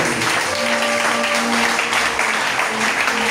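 A church congregation applauds and cheers, a dense wash of clapping with voices mixed in, steady and fairly close for a few seconds.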